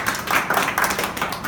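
A small group claps steadily for a driver called out in the karting race results at Northampton, a dense, close patter of hands that continues without a break.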